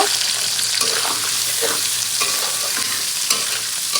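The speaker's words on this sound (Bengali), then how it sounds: "এখন দিয়ে দেবো পেঁয়াজ কুচি পরিমাণ মতো" Chopped onion fries with bay leaf in a hot pan, producing a dense, loud, close sizzle with occasional scraping stirs throughout.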